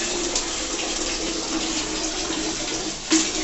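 Hot water runs from an LPG instant gas geyser in a steady, close, continuous rush with a small splash near the end, and no voices over it.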